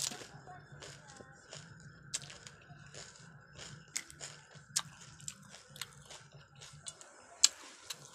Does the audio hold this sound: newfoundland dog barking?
no